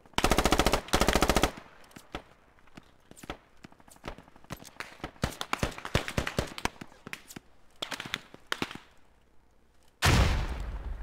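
Gunfire in the military shooter game Squad: two loud, fast machine-gun bursts open, scattered single shots and short volleys crack at mid distance, then another heavy burst erupts near the end.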